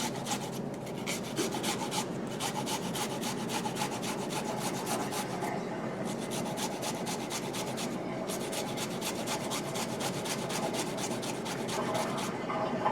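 Something is grated on a small grater into a paste for an Asian-inspired slaw, producing rapid, steady rasping strokes up close with brief pauses between runs.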